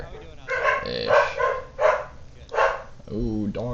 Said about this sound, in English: Ooh, dog's going crazy.